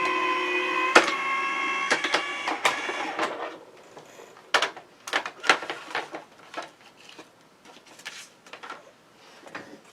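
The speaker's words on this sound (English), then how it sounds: "I'm going to run it through my die cut machine just for the pressure" A die cut machine rolls cardstock through for no-heat foil pressure, producing a brief whirring tone followed by scattered sharp clicks and mechanical ticks, close by and moderately quiet.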